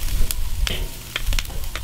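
Shrimp on a barbecue grill beside steaks in a surf and turf cook, a loud continuous sizzle pierced by sharp pops and scraping clicks at irregular moments, close up without speech.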